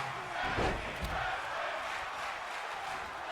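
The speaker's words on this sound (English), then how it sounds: "Crowd is going crazy for the tag team wrestling." Crowd noise from a tag team wrestling video game: a steady, loud roar of cheering fills the whole clip, with a brief swell and a thud early on.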